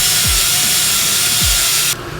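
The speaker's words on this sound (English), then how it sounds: "I'm going to take my grinder and just kind of smooth the edge a little bit." A grinder smooths the freshly cut edge of steel motorcycle handlebars, giving a loud, continuous abrasive whine with a few rising sweeps that cuts out abruptly near the end.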